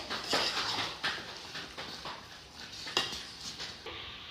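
Boiled mashed potatoes being stirred and mixed in a cooking pan, steady scraping and clinking of a utensil against the metal with irregular knocks, close and continuous.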